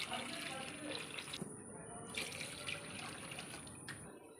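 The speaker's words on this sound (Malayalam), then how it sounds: "ഇനി നമുക്ക് അരി വേകാനുള്ള വെള്ളം ഒഴിച്ചു കൊടുക്കാം" Hot water poured from a cup into a pot of chicken to cook rice for Kerala-style irachi choru, heard as a continuous splashing, trickling pour close by.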